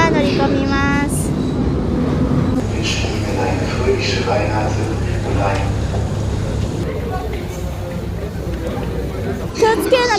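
A train pulls in at a Paris Gare du Nord platform, a low rumble and squealing brakes beneath constant station chatter and announcements, with people talking nearby.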